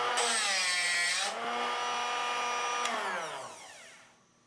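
A Drill Doctor bit sharpener whirs at high pitch as a drill bit is plunged into its grinding port, a steady motor whine with shifting tone that winds down and fades at the end, with no speech.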